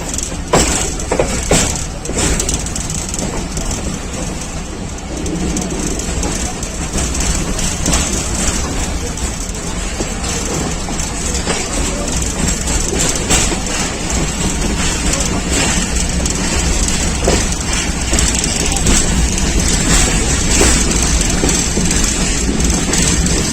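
Pakistan Railways' Thall Express passenger train running on the main line, a loud, steady rumble heard from inside the coach with continuous rattling and clickety-clack of the wheels throughout.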